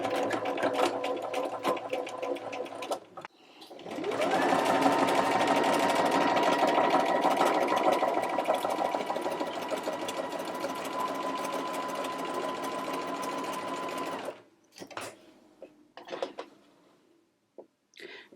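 A sewing machine with an edgestitch foot runs a straight stitch along a piece of trim, whirring steadily for about ten seconds after a brief start, then stopping with a few faint clicks.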